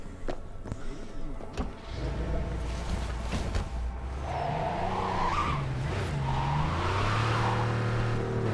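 Car driving in the video game Cyberpunk 2077, with tires skidding and squealing over a steady engine drone that builds from about two seconds on and holds loud and close to the end.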